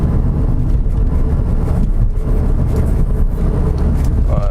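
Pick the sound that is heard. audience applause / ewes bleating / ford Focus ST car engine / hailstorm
ford Focus ST car engine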